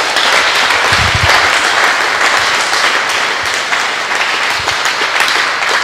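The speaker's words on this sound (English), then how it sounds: "Give a clap offering to Jesus again" A church congregation gives a loud, dense round of clapping for Jesus during Pastor Paul Rika's sermon, sustained and even for several seconds with little talk.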